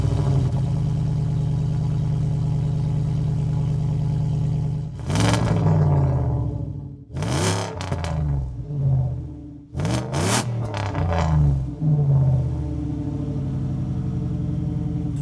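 A 1974 Ford Bronco restomod idles loudly through its single exhaust, then gives several sharp, roaring revs in quick bursts before settling back to a deep rumble.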